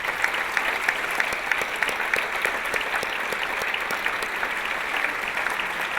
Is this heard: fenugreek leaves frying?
no